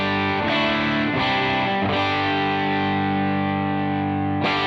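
Distorted electric guitar played through a Fender Custom Shop bridge pickup, a few hard-picked chords ringing out with thick sustain, loud and close, then a fresh strike near the end.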